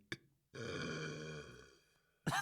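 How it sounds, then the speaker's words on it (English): A long, drawn-out burp rumbles for about a second, preceded by a short click and followed by a brief noise burst. "Give me a burp."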